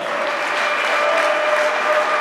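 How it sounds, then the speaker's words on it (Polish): An audience at a regional sports awards gala in Drzonkowo applauds, a dense, steady wash of clapping that fills the whole moment without a break. "Duże brawa dla Radosława Kawęckiego."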